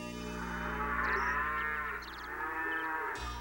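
A cow in a 1993 Super Mario Bros. cartoon gives a long, loud, drawn-out moo over a steady background hum, with no talking.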